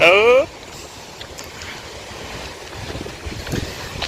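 Ocean waves wash onto a beach at Mucuri, a broad windy rumble of surf with gusts of wind noise, following a brief loud tonal sound at the start, faint voices nearby.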